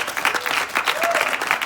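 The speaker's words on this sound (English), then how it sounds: "can we have a round of applause for the VPs who held it together tonight" An audience gives a short burst of dense, lively clapping and cheering for the VPs at an evening gathering, close and energetic.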